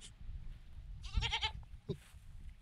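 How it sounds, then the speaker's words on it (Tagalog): A single goat bleats nearby in the Philippine countryside with a short wavering call, followed by a brief fainter sound, over a quiet outdoor background. "Sumasagot yung kambing."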